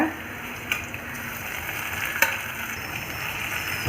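Chopped big onion with a little salt sautéing in a pan for tomato rice: a steady, even sizzle throughout, with two brief clinks from a utensil against the pan.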